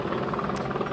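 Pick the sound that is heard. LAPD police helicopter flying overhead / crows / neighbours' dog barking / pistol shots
LAPD police helicopter flying overhead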